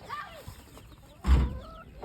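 A hen clucks in short, close calls on a small homestead, with thin chick peeps around it and a louder gravelly cluck burst in the middle.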